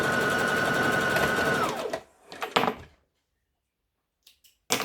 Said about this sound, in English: We're just going to stitch.